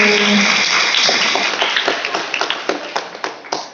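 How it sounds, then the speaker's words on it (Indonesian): Audience clapping at an Indonesian school talk show, starting dense and settling into scattered individual claps that thin out toward the end. "kasih tepuk tangan dulu untuk yang buat itu"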